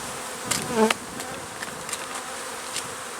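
Close, steady buzzing of many honey bees at a hive, a continuous drone with a brief louder hum from one bee passing near.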